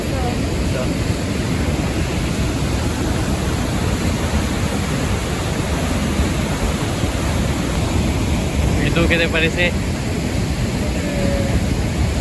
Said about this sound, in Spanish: Me parece increíble la cascada. Se siente una fuerza. Como toda esa agua caer.